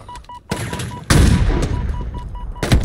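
Rapid gunfire in the Halo Infinite video game, dense loud bursts of shots and impacts filling most of the moment, heard alone without talk.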